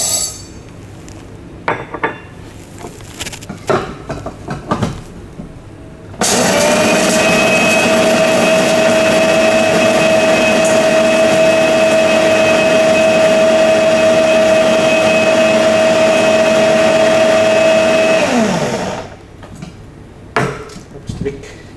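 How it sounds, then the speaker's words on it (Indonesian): An electric blender grinds 12 grams of Arabica lanang coffee beans with a loud, steady motor whine that runs for about twelve seconds and then winds down, with light clinks and handling noises before and after. "saya blender dengan waktu yang sama."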